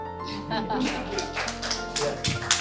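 An audience claps at a ceremony celebrating a kidney transplant performed in Uganda, a steady patter of hands running the whole time with voices and talk mixed in.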